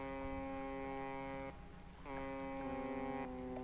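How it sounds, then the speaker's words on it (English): In the fishing game DREDGE, a boat foghorn sounds two long, loud, tonal blasts with a short gap between them, set against a soft wash of rain and sea. "Yeah, then I'll just prepare to foghorn."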